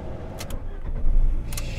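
A learner driver's car in a driving lesson, with a manual gearbox, starts up with a low, rumbling crank that swells to a steady idle about a second in. It sounds close and fairly loud, with a few faint clicks early on.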